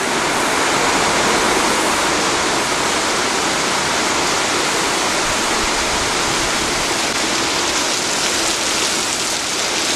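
A swollen river rushes hard during a heavy rain storm, a loud, dense, continuous roar of water mixed with rainfall, steady throughout with no voices.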